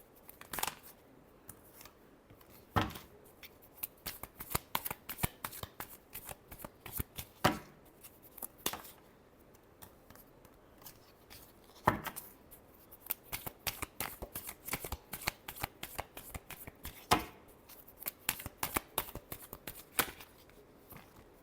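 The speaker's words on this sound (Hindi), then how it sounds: "last shuffle" Tarot cards being shuffled by hand in rapid bursts of crisp riffling and slapping, repeated many times with short pauses between, close and clear with no talking.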